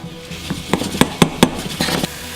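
A utensil scrapes and taps against a saucepan while mushrooms sauté in melted butter, about eight distinct clinks at an uneven rhythm over a soft, low background sizzle, close and fairly loud, no talking.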